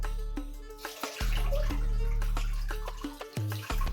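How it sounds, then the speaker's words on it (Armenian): Water is poured over a baby at a one-month celebration, splashing and gushing in a few bursts with brief pauses, over a steady tonal hum. "Նարեկս է ջուր լցնում իր զաքուկի վրա"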